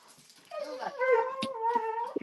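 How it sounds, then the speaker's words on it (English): A dog whimpers and whines in a long, high, drawn-out cry with a few short yelps, close and fairly loud, with no talk over it. "You got my dog barking."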